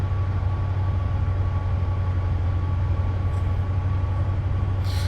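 A Class 70 diesel locomotive in Train Simulator on the South Wales Coast route gives a steady, loud low engine drone with a faint hum above it, running continuously without a break.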